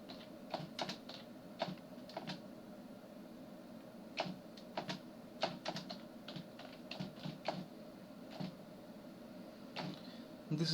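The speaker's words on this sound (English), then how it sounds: "so I'm just typing something like this" A computer keyboard being typed on, entering a line of text for a C program: irregular bursts of sharp, close clicks and key taps over a soft steady room hum, with no voices.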